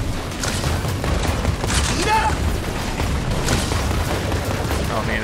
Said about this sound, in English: It's starting the explosion.